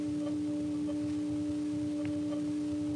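Constant background howl on an open wire telephone carrier line from a 3700 Hz answer supervision tone, heard during a 1976 call in Colonial Beach, Virginia; steady droning tones with faint intermittent blips over line hiss.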